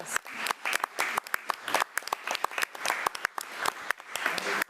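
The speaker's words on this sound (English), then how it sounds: "Let's give her another round of applause." Audience applause at a school board meeting honoring a student state champion, a moderate scatter of individual claps, fairly close and somewhat uneven, with a faint voice in the room.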